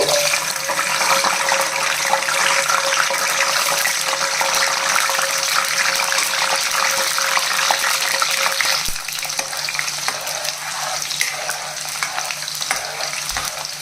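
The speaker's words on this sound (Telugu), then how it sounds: "ఆయిల్ వేడైన తర్వాత పొట్టు తీసి పెట్టుకున్న వెల్లుల్లి రేకలు వేసుకోవాలండి." Garlic cloves frying in hot oil in a pan for a raw mango and tomato pickle, a steady loud sizzle filling the whole stretch with no talking, easing slightly toward the end.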